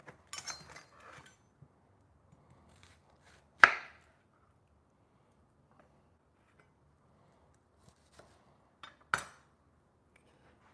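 Shallots are prepared on a kitchen board for homemade dog food, with a few sparse, sharp knife or utensil knocks close up amid near silence.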